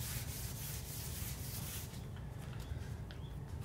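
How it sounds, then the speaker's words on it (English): Wet sanding on the paint of a classic Volkswagen Beetle makes a close, steady rubbing hiss that eases off partway through, with light scrapes afterward and no speech. "You just want to continue sanding."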